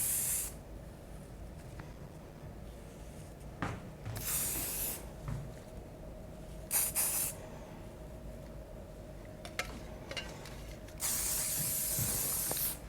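Hairspray hisses from an aerosol can onto styled hair in several short bursts of a second or so, separated by quiet stretches, with a longer spray at the end.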